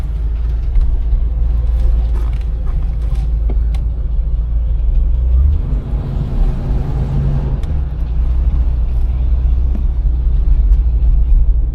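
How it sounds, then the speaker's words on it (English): Steady low rumble of a 1984 Cadillac Seville driving, heard from inside, with faint rattling from the wheels' hubcaps running underneath throughout. "Can hear them hubcaps, which is normal."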